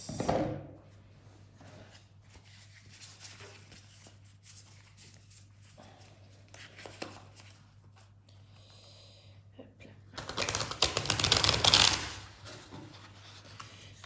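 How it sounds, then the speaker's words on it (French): A deck of cards is shuffled in a short, loud, close rustling burst near the end, after quiet handling sounds and soft breathing. "on va aller mélanger le paquet et on va se lancer"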